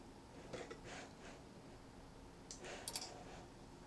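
Computer mouse clicks an OK button in a spreadsheet program, a couple of faint soft clicks near 0.5 s and a sharper pair near 3 s over quiet room noise.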